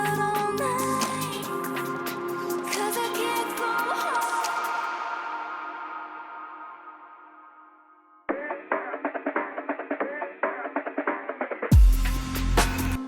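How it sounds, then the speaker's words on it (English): A sweeping producer transition effect: a dense musical passage fades and thins out into a tail, then chopped, filtered rhythmic bursts follow before the full-range music slams back in near the end. No speech. "Sweepy sounds like this."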